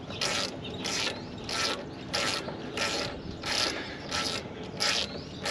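Ratchet wrench working bolts loose during teardown of a 1955 Chevy 3100 Big Window truck: steady bursts of fast clicking in roughly evenly spaced strokes, close and fairly loud, with no talking.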